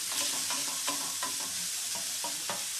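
Half a pound of regular ground beef sizzles steadily in a hot pan while a spatula scrapes and breaks it up in repeated strokes, with no talking.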